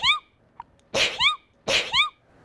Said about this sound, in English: Anything that you would normally do on a sneeze to be polite?